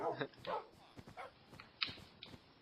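A dog barks in a video game, a few short yelps scattered across a couple of seconds and mixed in with steady talking.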